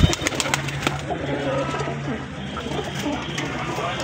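Saharanpuri pigeons cooing softly in a small group, repeated low coos over steady background noise, no speech.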